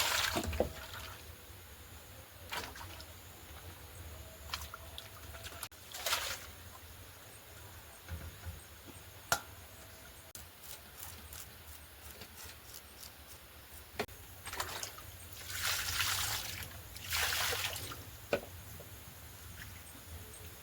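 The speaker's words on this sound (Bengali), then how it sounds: "যদি মনে হয় বেশি গরম তাহলে হালকা একটু ঠান্ডা জল মিশিয়ে নাও" Water is poured and stirred in a pot, giving intermittent splashes and swishes, some louder bursts of pouring, and quieter gaps between them in a room with light background noise.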